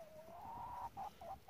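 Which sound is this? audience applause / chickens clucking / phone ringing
chickens clucking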